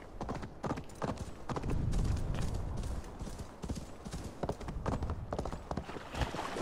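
Horses' hooves clop rapidly and continuously in a trotting rhythm in Assassin's Creed Valhalla, fairly close, with no talking.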